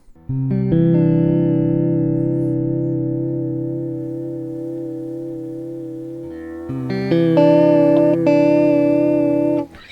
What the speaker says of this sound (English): Let's move over to vibrato.